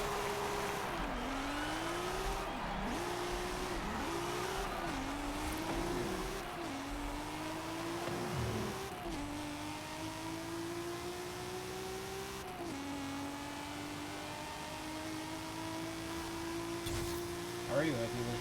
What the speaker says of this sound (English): drive all the way down this insane highway and see how fast I can get this thing going